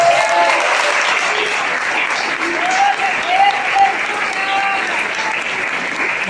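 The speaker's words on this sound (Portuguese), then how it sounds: "Quem pode aplaudir e glorificar o Senhor?" Church congregation clapping during a Father's Day service: sustained, steady applause from a crowd for several seconds with faint voices and cheers mixed in.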